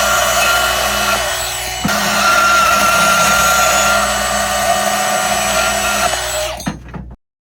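A loud power tool grinds steadily through deep steel unistrut for several seconds at a mine site, its pitch shifting slightly under load, then spins down and stops abruptly.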